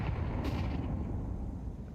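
A grenade detonates during a Counter-Strike match, giving one loud burst at the start that rolls into a sustained low rumble with a faint debris hiss trailing behind it.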